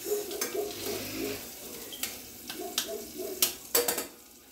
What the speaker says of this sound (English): This is how you start your roux.